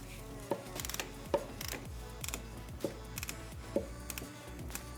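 Ratchet tightening two 10mm bolts that secure the filter on a 2003 Honda Accord, a quick run of faint mechanical clicks and gear-like ticks in short bursts over a low steady hum.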